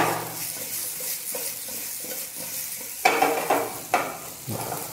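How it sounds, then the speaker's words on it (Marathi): Salt and coriander being mixed into food in a pan, with soft scraping stirs over a low sizzle and a few louder spoon-on-pan strokes near the end, no talking. "आता त्याच्यामध्ये ना थोडंसं चवीपुरतं मीठ टाकून घ्यायचं, अगदी थोडंसं मिक्स करून घ्यायचं एक वेळेस"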